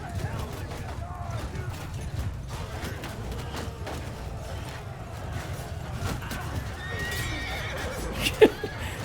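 Horses neighing and whinnying amid a cavalry battle in Mount & Blade II Bannerlord, with dense clashing combat noise throughout and a sharp whinny near the end, under someone talking.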